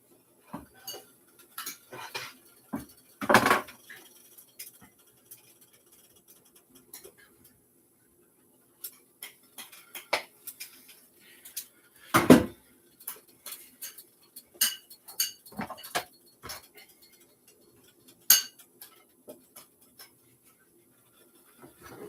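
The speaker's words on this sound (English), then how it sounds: "It's just it's a little stuck. So I'm going to use the spatula here." A spatula works loose an omelette stuck in a pan, making sparse metallic clinks and scrapes with two louder knocks and scattered light ticks between quiet gaps, close by and without talking.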